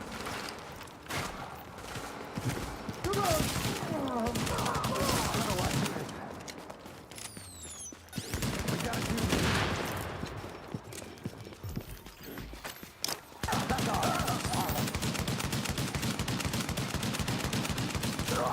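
Dense, sustained rapid gunfire from a deployed turret in The Division video game, loud continuous bursts with brief gaps over game noise, with voices speaking at times.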